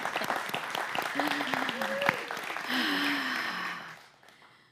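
A church congregation at an Easter Sunday service applauds in a dense burst of clapping, with voices speaking over it. The applause then fades away.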